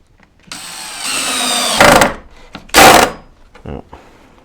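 Power drill driving screws into metal drawer slides, two short loud bursts of whirring after a longer steady run, heard close with quiet gaps between.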